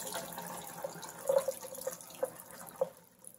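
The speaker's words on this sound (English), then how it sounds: "Just go ahead and drain the garbanzo beans." Soaked garbanzo beans are drained in a kitchen, with faint trickling water and a few scattered drips and light knocks, quiet and close, no speech.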